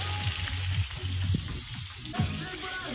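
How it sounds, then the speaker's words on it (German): Chicken legs fry in a kazan pot with a steady, close sizzle and crackle, with brief stirring scrapes, no talking. "So, jetzt werden wir die genauso anbraten wie die Kartoffeln, bis sie fertig sind"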